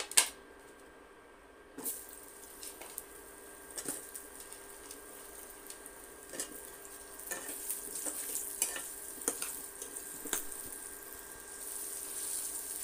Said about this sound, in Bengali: এবার আমি আলুগুলো ভালোভাবে ভেজে নেব।